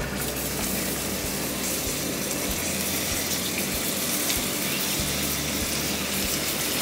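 Pineapple hitting hot caramel in a pan in a restaurant kitchen, a loud continuous sizzling hiss with a steady bubbling rush throughout and no talk.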